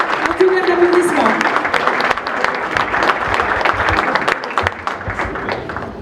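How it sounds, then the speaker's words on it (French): A crowd at a business trade fair in Paris applauds steadily with dense, sustained clapping, and a voice speaks briefly over the start. "Un tonnerre d'applaudissements."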